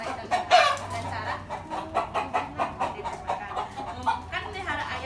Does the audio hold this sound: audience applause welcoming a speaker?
no